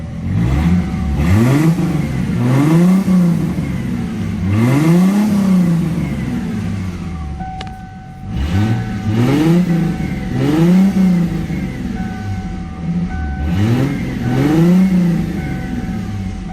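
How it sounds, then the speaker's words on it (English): A 1997 Ford Mustang standard coupe with no mufflers, exhaust running straight from the catalytic converters, revs up and down repeatedly in loud, close, rhythmic rising and falling bursts with a brief dip midway and no talking. "it's a sound check. There's no mufflers on here at all. It's just straight from the catalytics."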